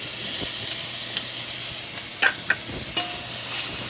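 Corn and vegetables stirred in a pot for a one-pot pasta, a soft low sizzle underneath with a few sharp scrapes and clicks of the utensil against the pot, fairly quiet overall.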